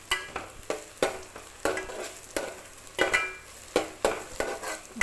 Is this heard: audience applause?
no